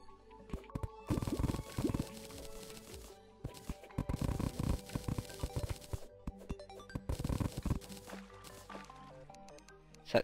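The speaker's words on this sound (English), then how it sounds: "Okay, we're gonna drain some of the water." In Terraria, water drains away in bursts of game sound effects, with loud watery splashes and squelches separated by quieter gaps.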